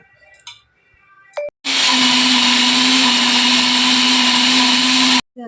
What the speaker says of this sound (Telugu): మొత్తం అయితే మిక్సీ పట్టేసుకున్నా